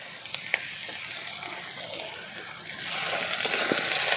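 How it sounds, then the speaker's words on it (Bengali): Chopped and ground onion frying with cumin seeds in a pan for mustard hilsa curry, a steady close sizzle with a few light stirring clinks, growing louder toward the end, no voices. "ভালোভাবে এখন কড়া করে ভেজে নেব, পেঁয়াজের কাঁচা গন্ধ যেন না থাকে"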